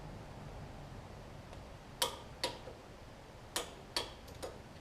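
Six sharp metallic clicks from a torque wrench as the blade bolts on a Craftsman T2200 riding mower are checked, set at irregular intervals over a quiet background.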